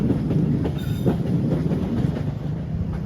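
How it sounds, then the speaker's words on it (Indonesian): The Parahyangan passenger train shunting on the rails, a steady rumble of rolling wagons with faint wheel clicks and rail noise, close and continuous, no speech. "momennya juga bareng tuh sama langsiran rangkaian kereta api Parahyangan"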